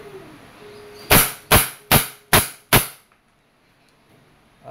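Crosman SR357 airgun revolver firing five shots: five sharp, loud cracks in quick, even succession, each with a brief decay, followed by near silence.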